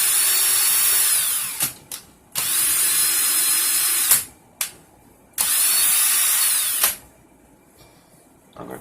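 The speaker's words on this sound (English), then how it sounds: "I'm going to get it in my drill." A cordless drill spins wire for a vape coil in three sustained high-pitched bursts, each cut off abruptly, with short clicks and pauses between runs.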